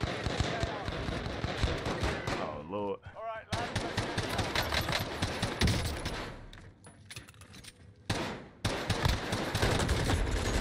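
Gunfire in Call of Duty Black Ops Cold War Warzone, a duos match, comes as rapid automatic bursts and scattered shots, loud and close. Players talk over much of it, and there are brief gaps of quieter sound.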